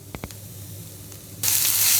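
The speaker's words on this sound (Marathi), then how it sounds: "कढईमध्ये कांदा घालू थोडं तेल टाकू" Sliced onion hits hot oil in an iron kadhai, a bright loud sizzle bursting in after a couple of faint clinks and holding steady and close with no talk.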